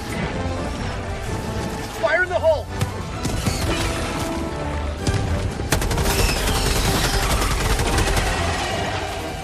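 Machine gun fire in the Helldivers video game, a dense and loud continuous stream of rapid shots and impacts mixed with crashes and explosions, with a voice briefly heard partway through.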